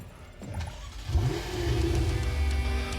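Car engine in the game NTE: Neverness to Everness, starting up and then revving hard as the car pulls away, a loud, steady mid-pitched drone close by.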